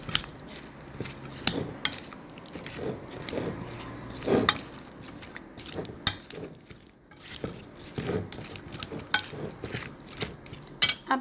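Chopped fruit such as apple and large grapes being stirred together in a bowl for fruit chaat, with a steady run of close clinks, knocks and soft squelches from a spoon against the bowl.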